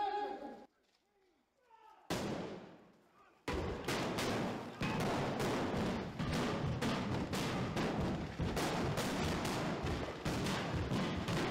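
Explosions during the viaduct onslaught scene of Harry Potter and the Deathly Hallows: Part 2, a rapid barrage of loud blasts and bangs filling most of the clip after a brief quiet start.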